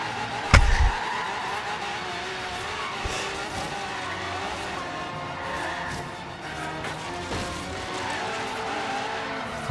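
A car drifts through a Forza Horizon 3 race with a steady, loud roar of engine and sliding tires. A sharp skid bursts out near the start, then the tire noise holds with no speech.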